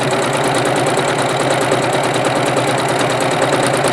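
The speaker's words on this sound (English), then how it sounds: "It's a straight stitch that you're going to be sewing, of course, and then just sew that straight down." A sewing machine runs steadily as it stitches a straight seam on black fabric with white thread. Its loud, continuous mechanical hum and rapid rhythmic clatter are heard close up, with no talking.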